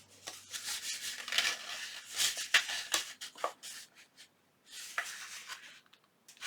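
Paper is trimmed by hand for a junk journal faux envelope tuck, with soft scissor snips, rustling and rubbing of sheets in an irregular, close, quiet rhythm.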